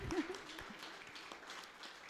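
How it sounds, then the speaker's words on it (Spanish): An audience at a talk on formal education and traditional diet breaks into applause, a faint, steady wash of clapping heard from a distance for about two seconds. "un fuerte aplauso desde Jalisco hasta Jujuy"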